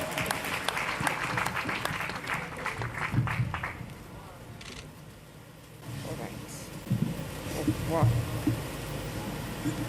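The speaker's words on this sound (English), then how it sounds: "Let's give them a round of applause before we even tell you who they are." Audience applause at the 41st Botswana Sport Awards, a large hall crowd clapping loudly for the first few seconds before it thins out, with a presenter speaking over the dying claps.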